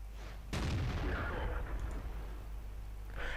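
A heavy tank cannon shot in World of Tanks, from a T44: one sudden booming blast that rolls into a long rumbling decay.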